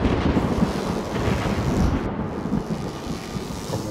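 Thunder and lightning in The Falconeer flying game: a deep, rolling rumble with a storm wash and hiss continues throughout, heavy and near, with no voices.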